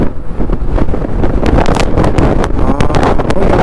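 Strong wind buffets a moving vehicle, a loud continuous roaring rush with gusty surges and thumps throughout.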